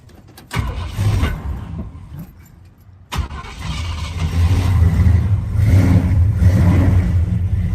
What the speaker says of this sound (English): I think I actually have to start up our 76 F-150 here